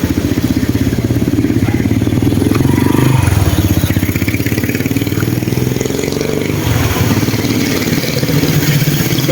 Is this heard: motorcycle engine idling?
yes